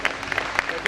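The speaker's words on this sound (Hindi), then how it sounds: "तालियां फिर बजा दीजिए।" A short burst of scattered hand claps from an audience at a Hindi stage performance, a few sharp claps rising over a steady murmur of crowd noise.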